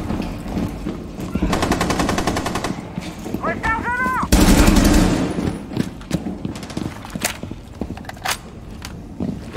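Rapid automatic gunfire in Rainbow Six Siege, loud bursts of close shots with scattered single rounds, a brief electronic chirp and a heavy thump, voices faintly underneath.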